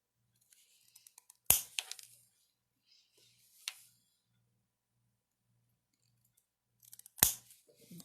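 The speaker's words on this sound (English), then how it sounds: "Cut off the point again on this one." Sharp snips of wire cutters clipping off the points of wire for handmade earrings, three crisp close cuts spread apart with light metallic ticks and handling sounds between.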